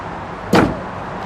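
A single loud, close slam as the carbon fiber front hood of a 2016 Porsche 911 GT3 RS is shut, a sharp thud over steady background noise.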